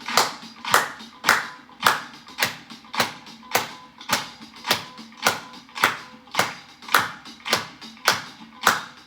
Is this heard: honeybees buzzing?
no